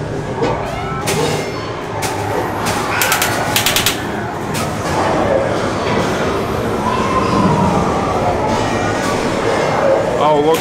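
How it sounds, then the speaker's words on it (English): Subway train rumble and rail screech fill a Halloween Horror Nights haunted house at Universal Orlando, loud and continuous, with people's voices and excited shouts over it. "looks like we're on a subway right now"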